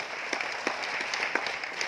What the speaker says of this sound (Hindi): जोरदार वाली ताली बजाइए